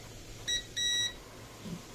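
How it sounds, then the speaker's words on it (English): Two short electronic beeps from a multimeter continuity test on circuit board traces, the first a brief blip and the second held a little longer, clear and steady in a quiet room. "So these two traces needs to be connected, and you hear the beep."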